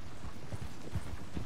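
Rhythmic clip-clop of horse hooves at a steady gait in the video game Red Dead Redemption 2, fairly close, with low thuds repeating over a soft background.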